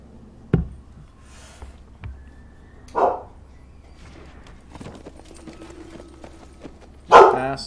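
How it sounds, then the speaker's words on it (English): A pet dog named Guaiza barks in a few sharp, separate yelps spaced out over several seconds, one louder bark at the end, amid quiet room noise. "You guys know my dog, Guaiza. She just loves to bark when I'm streaming."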